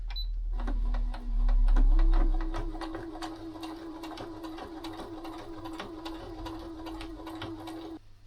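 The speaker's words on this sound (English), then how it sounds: "for the outside fabric, because it's thicker, I'm gonna slow down the stitch as well" A sewing machine stitching thick outer fabric with a 3.5 stitch length, a steady rapid mechanical whir with even needle ticks, running close and uninterrupted after a brief start.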